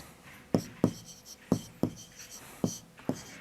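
Handwriting strokes from someone writing fractions during a class 6 maths lesson, with six or seven distinct scratchy marks at uneven intervals, close and fairly soft, and no voices over them.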